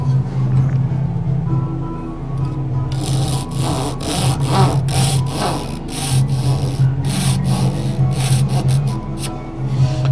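Hand saw cutting wood for a cockbead on an oxbow chest, guided by a miter gauge, rasps in quick, loud, rhythmic strokes over a steady low hum, close by.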